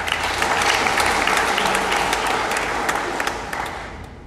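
A church congregation gives loud, sustained applause after a preacher calls for clapping for God and Jesus Christ, dense and close throughout and easing slightly toward the end.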